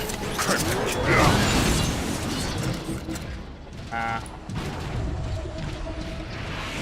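A mechanical elevator in Transformers: War for Cybertron rumbles and grinds along with ratcheting, creaking gear sounds and clanks, mixed with game combat noise and some talk.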